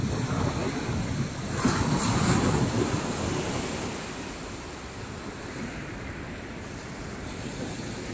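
Ocean waves at the Worthing sea front, a broad continuous wash of surf that swells and then eases, loud and close with wind buffeting the microphone.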